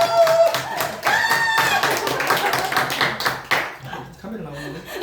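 Rhythmic clapping from an audience at a lecture as a speaker is introduced, brisk and steady, with voices talking and laughing over it before it dies away.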